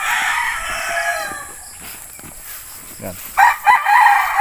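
A broodstag rooster, offspring of a breeder's broodcock, crows loudly and close by, then clucks briefly near the end, with a man's short remark over it.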